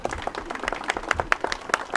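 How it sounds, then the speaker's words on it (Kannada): Scattered individual claps ring out from an audience at a free eye check-up camp event, sparse and uneven rather than a full ovation. "ಹೊಡೆಯಲ್ಲ ಚಪ್ಪಾಳೆ ಇದಕ್ಕೆಲ್ಲ"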